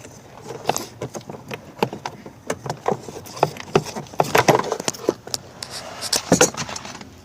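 Heater core hoses being cut on a 1997–2006 GMC/Chevy truck make repeated close snips, clicks and rattles of tool on rubber and metal in an irregular series, with no talk.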